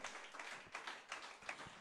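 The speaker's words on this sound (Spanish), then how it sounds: "¿Será que usted lo puede aplaudir mejor?" Church congregation clapping, a faint, distant round of applause with loose rhythmic pulses, soft and steady.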